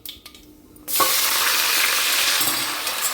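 Marinated brinjal dropped into a mustard oil tempering: a quiet moment, then a sudden loud burst of sizzling that holds strong, with a few stirring scrapes near the end.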